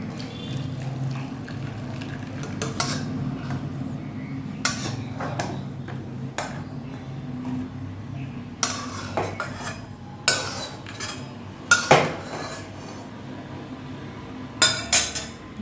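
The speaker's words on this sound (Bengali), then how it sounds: "আমগুলোকে আমি ছেঁকে নিচ্ছি।" Boiled mangoes are strained for a sweet and spicy mango chutney, with close kitchen clatter of utensils and metal vessels. Scattered sharp clinks and scrapes sound over a steady low background hum.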